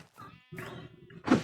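Sheep in Minecraft Bedrock Edition bleating in a wool farm, several short wavering baas one after another, clear and close, ending with a louder bleat.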